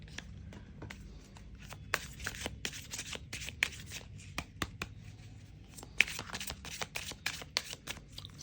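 Tarot cards being shuffled, giving a rapid run of crisp riffling snaps and slaps that is close and steady, with brief louder smacks scattered through the run.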